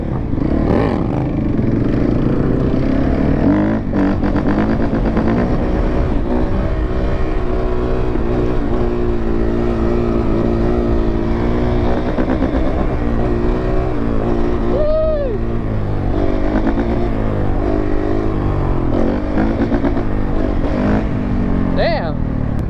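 Suzuki RMZ 400 dirt bike engine revving continuously while being ridden, loud and close with rising and falling revs throughout, with a rider talking over the engine noise.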